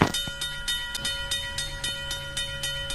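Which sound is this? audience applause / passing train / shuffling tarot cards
passing train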